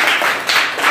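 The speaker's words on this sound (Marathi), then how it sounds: "टाळ्या वाजवायच्यासाठी सगळे" Schoolchildren in a classroom during a Scratch coding activity give a short burst of group clapping, loud and close, about a second of dense overlapping claps with no talk.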